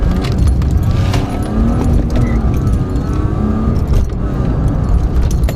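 Engine-swapped BMW E36 idling loudly with a steady, rumbling drone and slight rises in pitch as the throttle is blipped, close and continuous with no talk over it.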